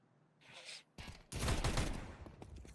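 Rapid automatic gunfire sprays in bursts in Counter-Strike 2, a short crackle followed by a louder sustained volley that tapers off, with faint game sounds in the background.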